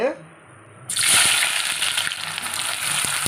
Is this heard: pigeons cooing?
no